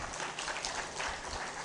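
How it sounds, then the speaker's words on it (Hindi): Faint, steady applause from a crowd at a religious discourse, a continuous patter of clapping heard at a distance for a brief moment. "तालियां।"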